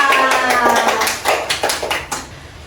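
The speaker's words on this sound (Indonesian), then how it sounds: "Tepuk tangan untuk kita semua." A class of young children claps in a quick irregular burst of sharp slaps, loud and close, with a teacher speaking at the start before the claps trail off.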